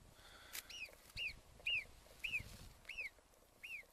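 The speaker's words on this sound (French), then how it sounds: "ça c'est le cri d'une marmotte qui prévient ses congénères de ma présence" A marmot's alarm call: six sharp, high-pitched whistling calls repeated at a steady pace, distant and faint against a quiet outdoor background in the Alps.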